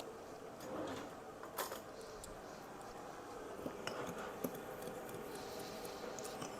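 A fork stirs a cup of sugar and a quarter cup of Hershey's cocoa together in a bowl, giving quiet scraping with a few sharp metallic clinks against the bowl.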